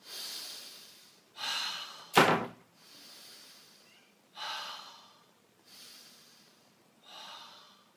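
Slow, deep breaths in and out, close to the ear, with one sharp snorting inhale partway through and steady pauses between breaths.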